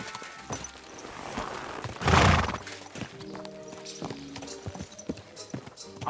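Horse hooves in the video game Kingdom Come: Deliverance 2 clop in a steady rhythm at close range, with a louder thump partway through and a brief whinny-like sound among the hoofbeats.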